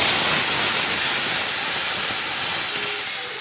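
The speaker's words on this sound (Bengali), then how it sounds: "এবার দেখুন কড়াইতে তেল দিয়ে দিলাম আর একটু, দিয়ে এবার আমি জিরে লঙ্কা বাটাটা দিয়ে দেব।" Cumin and chilli paste hits hot oil in a wok while cooking a mixed small-fish curry, giving a loud, steady, close hiss that holds for the whole stretch with no voices.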